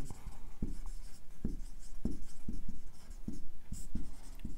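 A pen scratches out a note on paper, with quick, close strokes and taps in an irregular rhythm over a few seconds.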